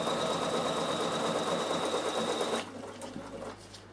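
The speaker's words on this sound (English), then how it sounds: "The machine now will completely sew my whole buttonhole because it's automatic." A Bernina sewing machine runs steadily while automatically stitching a buttonhole, its rapid mechanical whir loud and continuous for most of the clip before cutting out near the end, leaving a quieter hum.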